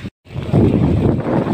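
Wind gusts over a friend's house rooftop terrace, a steady, loud rushing buffet on the microphone after a brief silent gap, with no talking.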